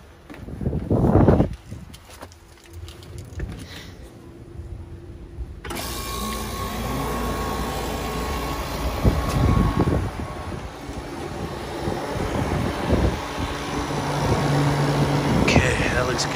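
Walk-in beer cooler motor starting up with a sudden onset, then running as a steady, loud hum with a constant drone for the rest of the clip, with occasional faint clunks over it.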